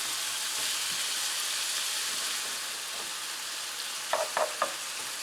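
Moose meat chunks sizzle steadily in a frying pan, a constant crackling hiss, with a few sharp scraping stirs near the end.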